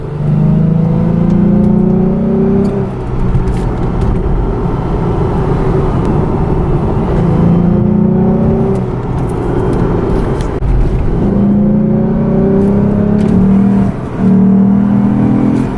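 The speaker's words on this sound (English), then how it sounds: "So now for a little third gear pull." A 2007 Lexus IS 350 fitted with an F Sport air box pulls hard in third gear on wet roads, its engine note loud and close, climbing in pitch, dropping briefly at shifts, then rising again.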